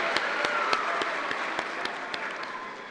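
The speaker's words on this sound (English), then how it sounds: "Will you all please join me in giving them a big round of applause?" A large conference audience applauds in a steady, dense roar, with a few sharp, close individual claps standing out above the crowd, holding evenly and easing slightly toward the end.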